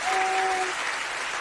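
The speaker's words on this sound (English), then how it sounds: "I'm trying to get us some sound effects up right now with to welcome her properly. Get some applause." Canned applause sound effect played to welcome a midwife guest on a health talk show: a steady wash of clapping from a crowd, loud and continuous, with a brief tonal electronic beep at the start.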